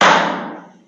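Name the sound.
auctioneer's hammer strike closing a sale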